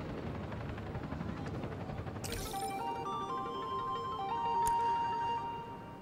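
A helicopter in the Spider-Man Miles Morales video game thrums steadily in the background, a fairly faint rotor drone under swishes and sharp game effects, with no talking.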